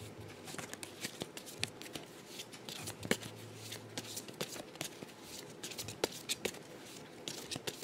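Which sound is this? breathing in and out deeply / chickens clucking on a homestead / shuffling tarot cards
shuffling tarot cards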